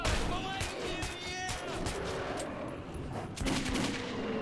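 Gunfire in Metro 2033 Redux, a dense, loud wash of rapid shots and rattling bursts that never lets up, rising again near the end, with faint voices underneath.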